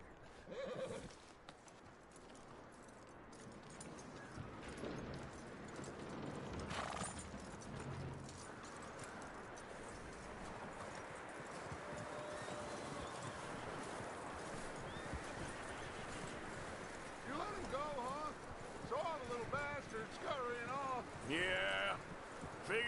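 A horse in the Red Dead Redemption II video game clip-clops along at a walk beside a character, its hoofbeats soft and steady under outdoor ambience, with whinnying and talking voices heard throughout.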